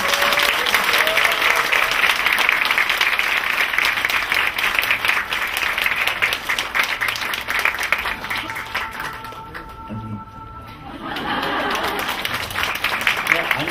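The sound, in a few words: audience applause welcoming a lecturer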